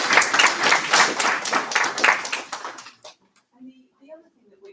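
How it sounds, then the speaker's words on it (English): An award ceremony audience claps for tutors, a lively burst of many hands that fades out after about three seconds, leaving a few faint voices and small sounds in a quiet room. "it would be really nice if we could have a round of applause for all of your tutors"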